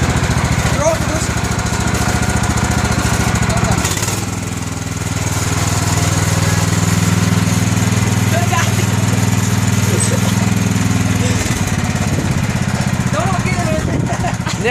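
A lawn tractor engine runs steadily while being maneuvered into parking, a loud continuous droning rumble with a brief dip partway through and voices calling out over it.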